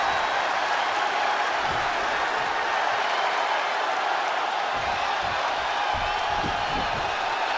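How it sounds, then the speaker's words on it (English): Wrestling crowd at a WWE event in Portugal roaring in a steady, dense wall of cheering and applause, loud and sustained throughout with scattered whoops rising above the din. "This crowd has been building, and they are at a fever pitch right now."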